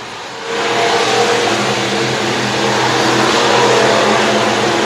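Race cars circling a speedway in single file during a charity fundraiser race night, a loud, sustained engine roar that swells in after a quieter start and holds steady, with no talk over it.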